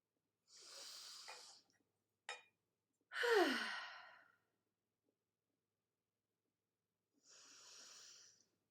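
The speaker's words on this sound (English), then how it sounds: "we will start this practice as we did the last one with 3 cleansing breaths. In through the nose" Slow cleansing breaths during a yoga and meditation session, drawn in through the nose and released through the mouth as close, soft sighing exhales, separated by quiet pauses.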